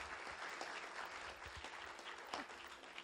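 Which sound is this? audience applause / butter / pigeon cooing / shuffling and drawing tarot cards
audience applause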